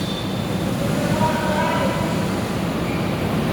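Manila MRT train heard from inside or beside the track, a steady loud rumble of rolling carriages with faint squeal tones, continuous throughout.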